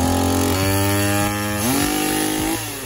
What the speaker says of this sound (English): I've actually blown this microphone before doing some really loud chainsaw work.